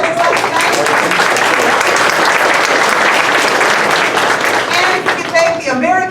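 Sustained, loud audience applause fills a candidate forum hall at an American Legion in Buffalo, dense clapping continuing steadily throughout with a few voices mixed in near the end.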